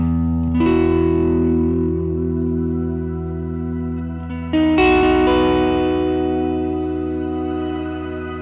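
Electric guitar run through a Fractal unit on the SFX Ursa Major reverb, two sustained chords struck seconds apart, each blooming into a dense, shimmering wash of echo and distortion that rings on and decays slowly.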